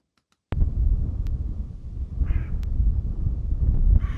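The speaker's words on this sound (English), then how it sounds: "that low rumble is wind" A low rumble of wind buffets an outdoor bird recording, a continuous deep roar that starts abruptly and persists throughout, with a brief faint bird call and a few clicks above it.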